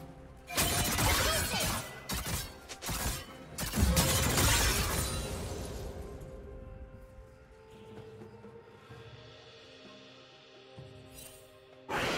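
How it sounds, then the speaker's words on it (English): A League of Legends turret is destroyed in a loud crashing, shattering burst of debris that rumbles for several seconds, then fades into softer game ambience with a fresh impact right at the end. "turret has been destroyed"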